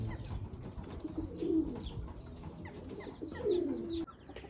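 Racing pigeons cooing in a loft, two soft drawn-out coos close by over a low rustling background.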